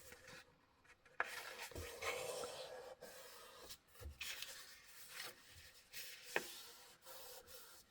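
Scissors snipping through paper for a handmade mini Christmas album, a close, quiet run of rasping cuts with a few sharper clicks as the blades close along the line.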